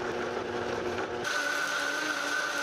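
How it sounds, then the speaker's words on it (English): A blender whirs steadily while blending roasted salsa ingredients until smooth, its motor tone shifting partway through as the load changes, then cutting off abruptly at the end; loud and close, with no talk. "now we're gonna blend until smooth"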